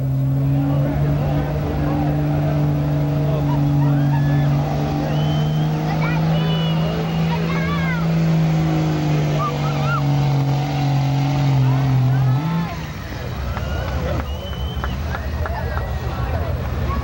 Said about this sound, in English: 2000 Dodge 2500 Cummins